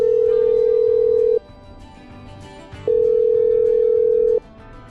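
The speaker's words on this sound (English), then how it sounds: "I'm dialing." Telephone in the video game Killer Frequency, a steady electronic ringing tone sounding twice in long even pulses with a pause between, loud and alone over faint background.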